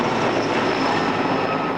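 An Air-Crane water bomber helicopter flies overhead during a bushfire, producing a loud, dense, continuous engine and rotor roar that stays close throughout.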